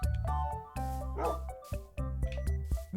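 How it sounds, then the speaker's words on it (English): Several dogs on a compact video game farm bark and yip in short bursts over steady game music, fairly loud and close, with a few whimpering yelps between barks. "She actually collected one of every kind of dog."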